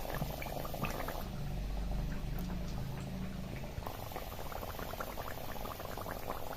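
Steady crackling and bubbling sizzle of food frying in hot oil, continuous and close, with no voices.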